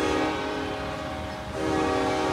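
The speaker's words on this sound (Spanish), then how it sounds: "Ahí el pito del tren los asustó, el claxon o el sonido del tren" A train horn blares near a river crossing on the Rio Grande, a sustained loud tonal blast with a brief dip midway before resuming, over the rumble of the passing train.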